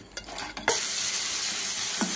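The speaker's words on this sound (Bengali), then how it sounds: "আমি ভাজতে আরম্ভ করছি" A few clinks of utensils, then a sudden loud sizzle as crab pieces hit hot oil in a wok, crackling steadily and close, with one more scrape partway through.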